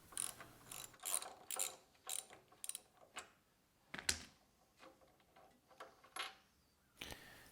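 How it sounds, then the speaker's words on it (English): Spark plug socket wrench ratcheting as a spark plug is loosened on a Honda snowblower, quiet close-up clicks in quick bursts separated by short pauses, with no talking. "And then gently loosen the spark plug, turning counterclockwise."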